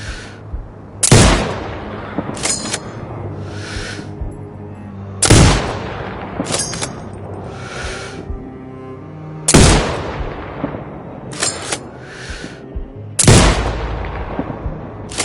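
Sniper rifle shots in Sniper Ghost Warrior 2, four sharp, loud reports spaced a few seconds apart, each followed by a lingering echo and a short mechanical sound between shots.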